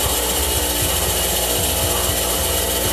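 Dressing stone rubbed across a spinning grinding wheel in a workshop, a steady loud abrasive grinding hiss over the motor's low hum, continuous and close, no talk.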